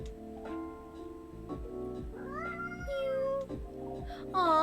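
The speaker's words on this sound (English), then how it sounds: "Aw, poor kitty. Did the machine wake you up?" A cat meows in the video game Coffee Talk 2: one bright, rising meow near the end, over soft, steady café background music.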